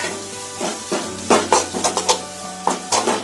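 Turmeric and garam masala stirred into a broken-wheat mixture in a pan for cutlets, with a spoon scraping and tapping the pan in irregular strokes over a soft sizzle, close up.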